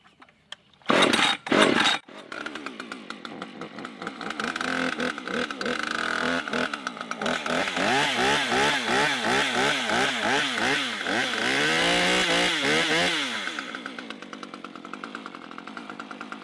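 A Husqvarna Pro arborist chainsaw is started with a couple of sharp pulls, then runs steadily, revving up and down repeatedly in a rhythmic whine before shutting off.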